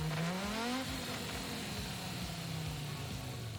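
In Gran Turismo 7, the 588-horsepower Pikes Peak Audi Quattro engine from 1987 revs up in one rising pull, then holds a steady, fairly quiet drone.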